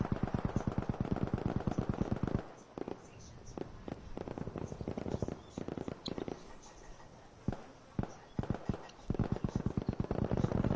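Repeated shotgun blasts in a competitive online video game match, rapid loud bursts of firing in clusters with short pauses, while a person talks quietly over them.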